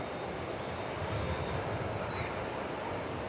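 Airplane taking off from runway 18 left at Dallas/Fort Worth airport, a steady broadband engine roar that swells slightly midway and holds loud and continuous, with no talk over it.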